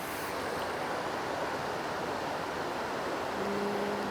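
A powerful river near Yosemite rushing at night, a loud, constant broadband roar of churning water that is steady throughout, with no voices.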